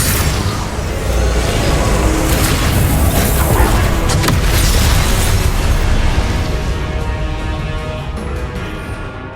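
A Confringo blasting spell in Hogwarts Legacy goes off as a loud, sustained explosive roar with rumbling debris, holding for several seconds before slowly fading, with no talking.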